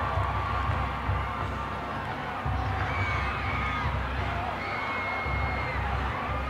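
Crowd noise at a high school football game, Manvel against Cy Woods, with a steady murmur, scattered cheers and shouts, and a few whistles over a low rumble; clapping is not distinct.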